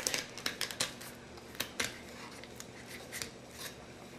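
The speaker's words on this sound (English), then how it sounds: "You can cut right through them with a sharp fillet knife." A sharp fillet knife cutting through the rib cage bones of a fish during filleting, with a string of close crunchy clicks and snaps, sharper at first and then softer, with no talk.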